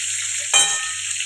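Fried cauliflower being lifted out of hot oil in a pan: a soft background sizzle with one brief, louder burst of crackle and scraping midway, all in little more than a second.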